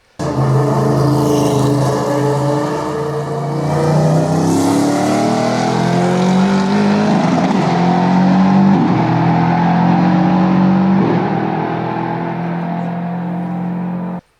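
Nissan Titan XD truck with a VK 5.6 V8 accelerating hard, its engine note climbing steadily in pitch through several gears as a loud, sustained roar, no voices.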